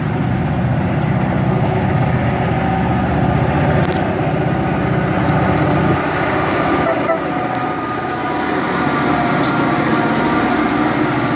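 A northbound freight train locomotive idles or rolls slowly past in Trenton, Ohio, giving a loud, steady low rumble and mechanical hum that runs through the whole stretch.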